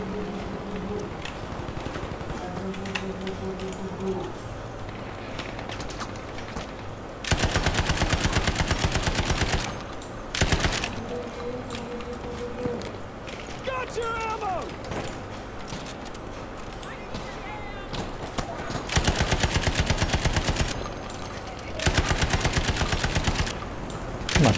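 Bursts of automatic gunfire ring out repeatedly in Battlefield 5, loud rattling volleys separated by quieter stretches of ambient battle noise and occasional single shots.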